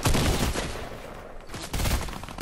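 Loud, continuous rapid gunfire in the video game Fortnite, a dense burst that briefly eases midway and then surges again.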